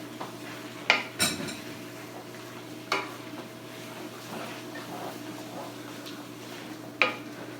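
Stir fry noodles and pulled pork are stirred in a pan, with a handful of sharp utensil clinks and scrapes against the metal over a faint steady background hum.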